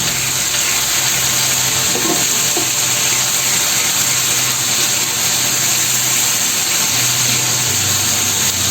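Tomato paste hits hot oil and spices in a pan, giving a loud, steady sizzle and frying hiss that runs throughout with faint stirring scrapes underneath.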